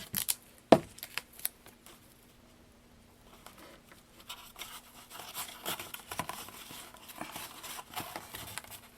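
Duct tape is pulled, torn and pressed onto the bottom of a cardboard Capri Sun box, giving sharp crackles and rips early, then a quieter stretch, then soft patting and crinkling.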